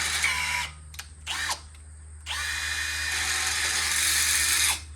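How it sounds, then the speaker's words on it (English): A power drill bores slowly through metal tubing in short starts and stops, then settles into a steady high-pitched whine for a few seconds, close and loud with no talking. "Thing about drilling this tubing, it likes to catch the bit."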